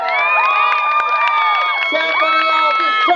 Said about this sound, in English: a big, big round of applause.